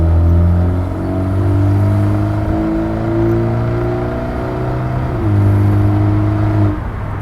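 A 2023 BMW 330i LCI with its resonator deleted accelerates at about 30% throttle, heard from outside as a loud, close, smooth engine drone that rises gradually and holds steady with a brief shift midway.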